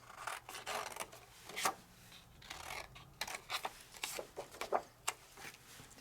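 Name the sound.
scissors cutting paper wings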